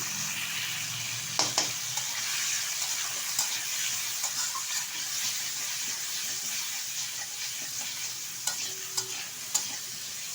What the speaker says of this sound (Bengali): একটু নেড়ে চেড়ে নিয়েছি